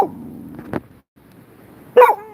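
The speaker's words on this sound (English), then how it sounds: "There's another dog walking by." A pet dog at home gives a short bark, a pause, then a sharper louder yip as another dog walks past outside on an overcast day, each sound brief and close.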